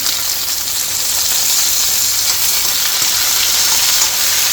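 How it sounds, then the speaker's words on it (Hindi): Chopped tomatoes go into onions already frying in hot ghee, setting off a loud, steady, hissing sizzle that holds evenly throughout, close up and with no talking. "अब ये इसके अंदर थोड़ा सा फ्राई हो गया है, तो अब ये टमाटर डाल देंगे थोड़े कटे हुए।"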